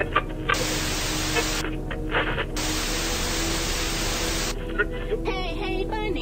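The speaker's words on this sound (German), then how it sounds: "Ein elektronisches Rauschen folgte der Melodie" Steady electronic static hisses from a television throughout, loud and continuous, with brief stretches where the hiss thins and faint tones show through.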